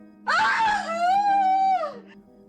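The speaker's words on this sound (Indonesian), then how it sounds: "Bu Siti berteriak" A woman lets out a single long, loud cry of pain that swells, holds and then fades, a wailing scream used as a sound effect in a horror story.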